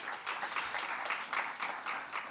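Audience at a forum claps to welcome a speaker to the stage, a steady wash of many hands applauding at moderate level, sustained without pause across the moment.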